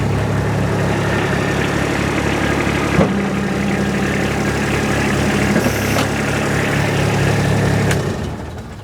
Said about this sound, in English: That is a 3-cylinder Kubota diesel